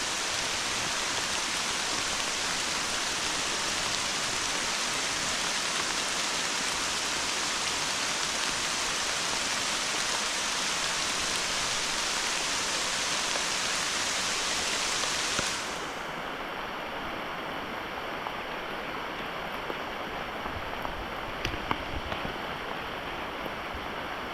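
Heavy rain pours steadily and loudly during an outdoor walk, a dense continuous hiss of drops drumming on surfaces, easing somewhat in intensity partway through but continuing without pause.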